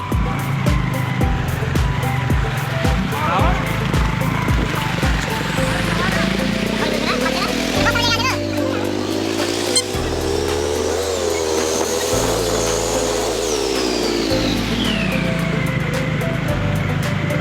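A vehicle drives along a road near Ramdas Beel in Rohanpur, Bangladesh, its engine a steady, close drone that shifts pitch as it moves, with people talking over it throughout.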